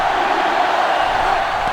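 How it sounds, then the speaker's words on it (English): A sellout stadium crowd at a football game roars in a steady, dense, distant wall of noise throughout. "This sellout crowd is really making a difference now as these guys can't even call the play."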